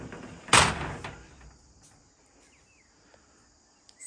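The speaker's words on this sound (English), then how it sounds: "I'll just shut this door while I'm here." A single sharp door shut lands near the start inside a rural house by a rear covered patio, then fades to quiet room tone with faint insect chirping.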